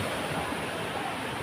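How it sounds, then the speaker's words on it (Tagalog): Strong sea waves surge and roar as a continuous, loud broadband wash, with wind blowing across the microphone and a faint voice underneath. "napakalakas pa ng alon"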